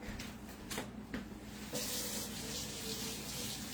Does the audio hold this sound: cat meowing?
no